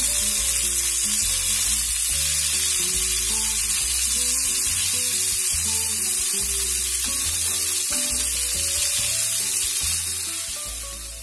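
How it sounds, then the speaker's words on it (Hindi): Taro root (arbi) patties fry in hot oil, giving a loud, steady sizzle with crackling bubbles that carries on throughout and eases slightly at the end. "तो इसको हम फ्राई करने के लिए डाल देंगे।"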